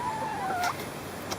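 A free-range hen in a chicken coop gives a brief wavering cluck, close and clear over a steady outdoor background, followed by a few faint clicks.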